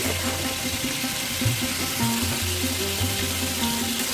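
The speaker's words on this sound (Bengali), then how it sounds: "তো চিকেনটাকে আমি সমস্ত গ্রেভির মধ্যে দিয়ে ভালো করে কষিয়ে নিচ্ছি।" Chicken pieces cook in a thick curry gravy in a pan, giving off a steady wet sizzle and bubbling broken by occasional stirring clatter. Nobody speaks over it.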